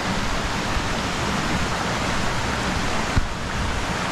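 A river flowing through a forest past mossy stones, a loud, continuous rushing roar close by and steady throughout, with one brief knock partway through.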